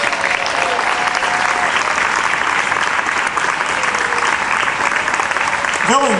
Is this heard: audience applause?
yes